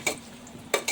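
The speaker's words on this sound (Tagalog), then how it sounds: "Igisa natin ang sibuyas." Onion gets sautéed in hot oil in a pan for fresh miki noodles, with a soft frying hiss and two short utensil scrapes against the pan.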